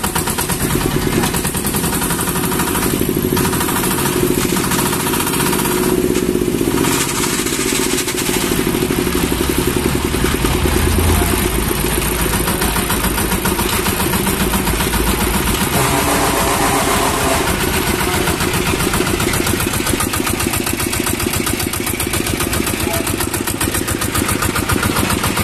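A Kubota Japanese-market walking tiller engine idles steadily with a loud, close, rapid chugging putter that holds a constant rhythm throughout, with no talking over it.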